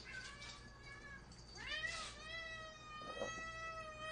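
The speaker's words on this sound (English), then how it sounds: "Okay, little kitty." A hungry cat meows several times, drawn-out and whiny cries close by, with a louder plaintive call midway, over a quiet indoor background.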